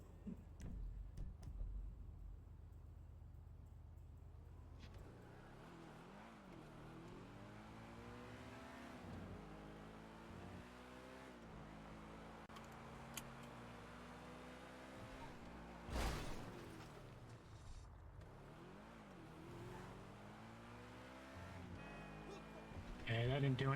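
Car engine in FiveM, the GTA mod, revving up and down repeatedly in rising and falling sweeps after a quieter start, close and steady, with a sharp burst near the middle.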